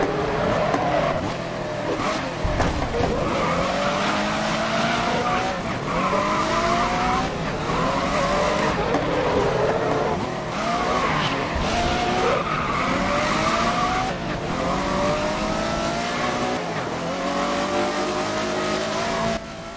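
Race cars in GRID (2019) roar at full throttle with engine revs rising and falling and repeated tire squeals and skids through corners, loud and continuous from start to finish.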